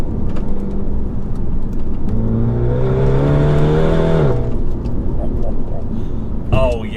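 A Mini GP3's engine revs hard on a B-road, climbing in pitch over a few seconds before the revs drop off, loud and continuous throughout.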